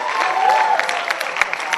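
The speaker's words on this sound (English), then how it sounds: "Please clap for him." An audience of young college women applauds at a self-defence session, a soft, continuous patter of clapping heard at a distance, fairly faint, with crowd murmur underneath.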